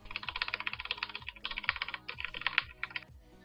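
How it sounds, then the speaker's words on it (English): Rapid, dense clatter of keys being mashed on a computer keyboard, a continuous flurry of loud, close clicks with brief pauses between bursts. "your best option is to mash keys"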